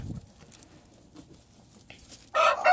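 Mostly quiet, with faint soft clucks from a brooding hen sitting on eggs, then a chicken squawks loudly and close near the end.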